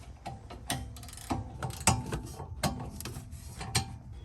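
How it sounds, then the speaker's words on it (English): Wrench work on brake assembly bolts of a 2011 Audi A3 TDI: a series of sharp metallic clicks and ratcheting taps at irregular intervals, close and moderately loud, with no talking. "you have to put your wrench on the nut as you remove the bolt so that the assembly comes apart"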